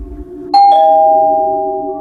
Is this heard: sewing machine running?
no